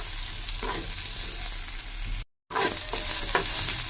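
Cumin seeds fry in hot tempering oil for a village-style cluster bean stir-fry: a constant close crackling sizzle with light stirring taps, briefly cut to silence midway before resuming.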